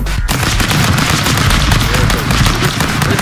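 Gunshots in Stick Fight: The Game as a dense, loud, continuous barrage of game gunfire and chaotic action, with players shouting over it.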